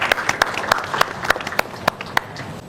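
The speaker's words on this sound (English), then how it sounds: "Kindly give a big applause to Dr." Scattered, fairly close hand claps from a conference audience at a hotel event, welcoming a university speaker onto the stage; the claps are separate and sparse rather than a full ovation.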